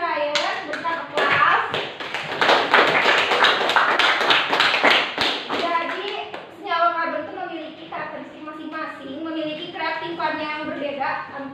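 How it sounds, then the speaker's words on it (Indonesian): Applause in a school classroom for a student named Ryan during a chemistry lesson on carbon compounds, sustained clapping from many hands over the first several seconds, followed by a voice speaking. "Berikan aplaus"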